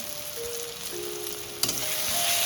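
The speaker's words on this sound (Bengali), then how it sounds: "তো এখানে আবার একটু নাড়াচাড়া করবো, একটু কষা কষা করবো যতক্ষণ না তেলটা ছাড়ে।" Turmeric and chili powder masala stir-fried in hot oil, a steady broadband sizzle with a sharp scrape of the spoon partway through, close and continuous with no talking.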